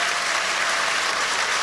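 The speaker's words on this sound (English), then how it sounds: "Just a nice big round of applause again for them all." Audience at a town hall show in Omagh applauds the performers with steady, dense clapping that stays even and moderately loud all the way through.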